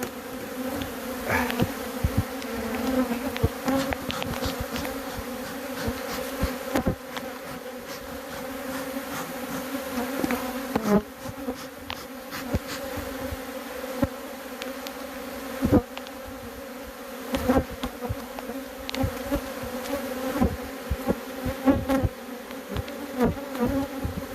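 Bees buzzing inside a wild hive, a dense steady drone of many insects close by, with brief knocks and rustles rising over it throughout.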